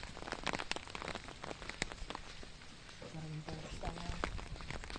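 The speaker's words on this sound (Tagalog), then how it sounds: "It's raining." Rain patters steadily on surfaces outdoors at a family outing, a soft continuous hiss with scattered drop taps, while people talk faintly in the background.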